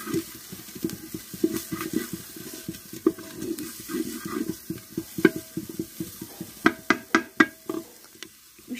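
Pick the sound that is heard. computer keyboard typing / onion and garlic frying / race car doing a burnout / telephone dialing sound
onion and garlic frying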